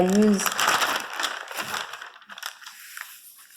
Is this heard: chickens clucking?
no